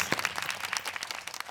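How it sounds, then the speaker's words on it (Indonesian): Brief applause from a small audience at an Indonesian political gathering, quick scattered claps, moderately faint and lasting only a moment. "Tepuk tangan, guys."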